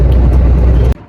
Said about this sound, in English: Got the first ride on a big truck.